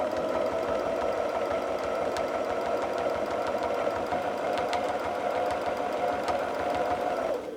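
A sewing machine quilts along marked lines on a sweatshirt quilt, running at a steady rapid stitching chatter with a motor hum. It is close and continuous, then stops at the end, with no talking.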